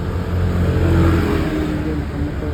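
Cars and weaving motorcycles, taxis among them, crawl through congested city traffic, giving a loud, continuous engine drone with a mid-range revving swell, heard close by with no talking.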